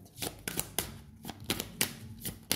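Oracle cards being shuffled and drawn by hand, a series of quick riffling, flicking bursts in an irregular rhythm, close and fairly quiet, with no talking.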